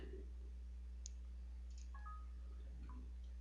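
Mouse clicks while working in CAD software: a few faint, isolated clicks spread across a few seconds over a low steady hum, with no talking.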